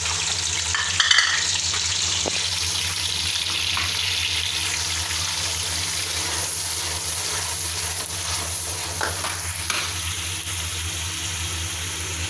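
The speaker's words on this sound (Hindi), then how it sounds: "ऑयल हमारा जो है ना गरम हो गया, तो जो पेस्ट बनाया प्याज का वो डालते हैं इसमें।" Steady sizzling and crackling of onion paste frying in hot oil, continuous throughout with occasional stirring clinks, no talking.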